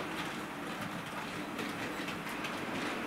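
A Vulcan Class 37 model locomotive runs along the track with a steady, continuous rolling rattle and faint clickety-clack, close and even throughout with no talk.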